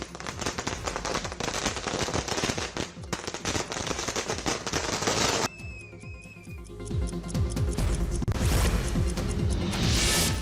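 Firecrackers burst in dense, rapid strings during a street celebration, loud crackling volleys with sharp bangs, a brief lull with a whistling rocket, then another heavy barrage.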